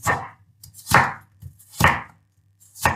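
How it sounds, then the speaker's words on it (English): A knife cuts a sweet potato into slices and strips, striking the board in four separate loud, crisp chops at roughly even intervals, close up, with quiet between strokes and no talking. "And cut it into small pieces, first into slices and now into strips"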